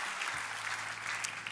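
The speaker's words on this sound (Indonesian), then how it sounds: "Kita beri tepuk tangan mari meriah buat Yesus Tuhan kita." A church congregation bursts into dense, steady applause for Jesus during a worship service, a loud, sustained wash of many hands clapping with no talking over it.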